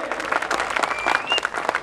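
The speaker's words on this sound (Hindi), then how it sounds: "तालियां जरा जोर से बजाइए।" Audience applause at a Ramleela drama competition, steady clapping from a crowd for an actress of a dramatic club, lasting throughout with a faint whistle-like tone riding over it.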